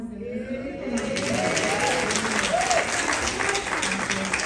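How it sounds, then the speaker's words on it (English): A congregation applauds at a funeral service, with sustained clapping from a crowd of mourners in a church and voices and cheers audible beneath the hands. "Let's give him a round of applause."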